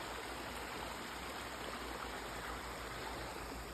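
A river stream rushes steadily along a forest trail in the Vosges mountains near the Col de la Schlucht, a constant close, even watery roar with no voices.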